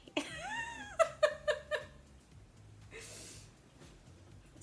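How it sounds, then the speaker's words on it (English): A dog with narrow nasal passages snoring: a brief whine, then a rapid run of short, rhythmic snorting pulses, followed later by a breathy rasp, all close and fairly quiet. "he has this snoring thing that he does"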